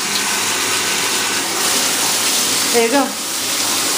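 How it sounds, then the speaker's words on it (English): A bathtub faucet in a Las Vegas Delano resort suite pours water at strong pressure, a loud steady broadband gush filling the whole stretch, with a voice speaking briefly over it. "just to show you the good quality of the water pressure"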